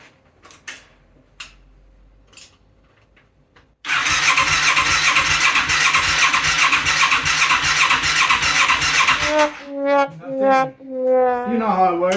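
A Yamaha XS400 cafe racer motorcycle engine on its first start: a few quiet clicks, then a loud, steady starter cranking for several seconds, ending in rising and falling revving bursts as it catches.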